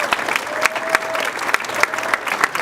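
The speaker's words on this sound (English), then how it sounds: "let's give her a huge round of applause" A crowd gives a young volunteer a burst of applause at a keynote event, dense close clapping with sharper individual claps popping out, loud and continuous for the whole stretch.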